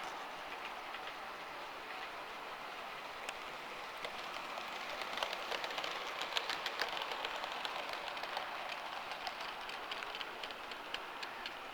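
Two Bachmann 9F model railway steam locomotives running and crossing on the track, a steady soft rolling rattle with faint clicking over the rails, continuous and fairly quiet throughout with no talk.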